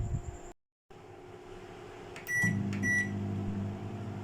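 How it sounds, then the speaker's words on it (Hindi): A microwave oven hums steadily while heating an Oreo cupcake for one minute, with a brief cut in the sound and a couple of high electronic beeps as the oven starts, no talk. "अब इसको हम 1 मिनट के लिए माइक्रोवेव में रखेंगे।"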